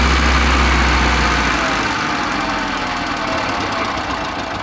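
Engine of a Żuk car running just after startup, a loud low rumble that steadies into a rough, knocking idle, close and alone.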